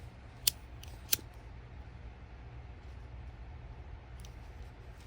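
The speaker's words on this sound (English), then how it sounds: "you can pull them tightly, snip them off" Scissors snip thin macrame filler threads in two quick, crisp cuts near the start, over a low steady background hum, with no talking.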